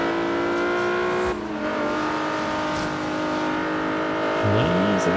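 Tuned Nissan 370Z engine in Forza Horizon 3 held at a loud, steady high-revving drone with rich harmonics, shifting abruptly partway through, then rising and falling revs near the end.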